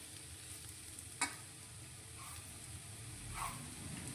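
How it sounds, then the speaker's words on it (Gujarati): Steady sizzling of vegetables sautéing uncovered in an open pan over a low gas flame, with a light stir and clink partway through; no voices, the hiss continuous throughout. "આપણે ત્રણથી ચાર મિનિટ માટે ખુલ્લું સાંતળીશું"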